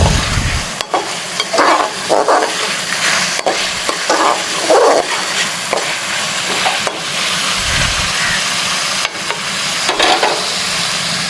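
Chopped tomatoes going into chicken jalfrezi frying in a pan, giving a steady close sizzle with scraping stirs and clattering spoon strokes throughout, plus a couple of louder knocks near the end.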